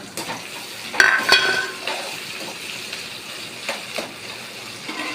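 Tomatoes fry in a pan for chicken kulambu with a soft, continuous sizzle, punctuated by sharp clinks and scrapes of a utensil stirring against the metal.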